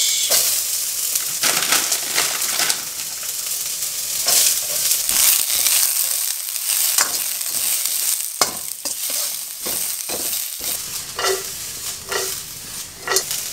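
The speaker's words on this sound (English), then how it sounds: "Here I got my wok with a little bit of olive oil. Here I'm gonna fry mung bean sprouts." Mung bean sprouts frying in olive oil in a wok, with a continuous close sizzle broken by scraping and tossing sounds from stirring throughout.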